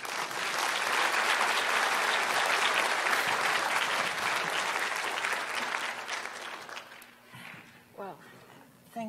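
A large audience gives sustained, dense applause that welcomes a speaker and gradually tapers off, ending with a few scattered claps and a voice starting to talk.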